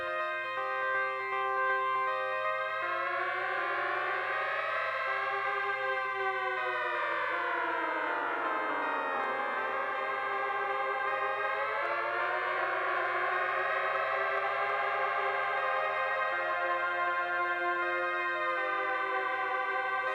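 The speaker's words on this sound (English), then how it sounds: "that's a little arpeggio thing on the OP1 running through that new Echo Fix" An OP-1 synthesizer arpeggio fed through an Echo Fix unit, a bright layered tone sweeping smoothly down in pitch and rising back up, sustained, loud and alone for about twenty seconds.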